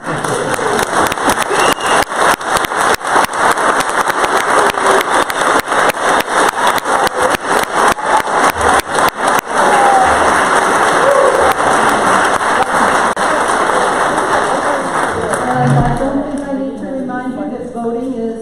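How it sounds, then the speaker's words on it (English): Sustained applause from an audience at the close of a town candidates night in Peterborough, New Hampshire, a dense steady clatter of clapping hands that runs loud and continuous before thinning out near the end. "I lift my ban on applause so that we can thank all of you."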